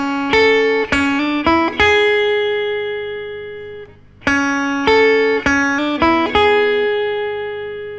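Electric guitar plays a signature riff through a Fender Princeton Reverb amp: clean, bright picked notes in two repeated phrases, each ringing out and decaying, loud and close.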